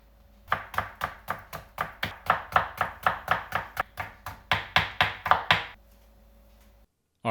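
A knife chopping a vegetable on a cutting board, about twenty crisp, evenly spaced taps in a steady rhythm, close and fairly loud, with no voices.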